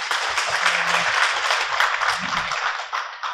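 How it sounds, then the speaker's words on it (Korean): A conference audience claps for a speaker being introduced, moderate and fairly steady, with a few low thumps and murmurs mixed in. "박수 부탁드리겠습니다."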